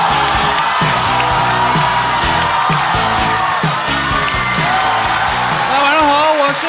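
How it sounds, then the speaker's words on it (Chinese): Cheering and applause at a stand-up comedy show for a comedian walking on, heard as a loud, continuous crowd roar with claps, whoops and a thumping beat of walk-on music underneath. "掌声欢迎陈曦"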